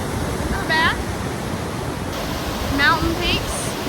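A waterfall at the top of the falls in Rocky Mountain National Park gives a steady, full hiss of rushing water, close and constant, with faint bird chirps on top.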